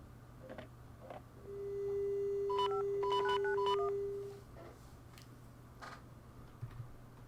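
DTMF tone dialing from a telephone in the PS1 game Juggernaut: a steady dial tone, then a quick run of about a dozen keypad beeps before the line cuts off, over a low background hum.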